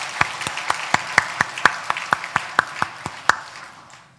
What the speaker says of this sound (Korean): 우리 박수로 한번 환영해 주시겠습니까?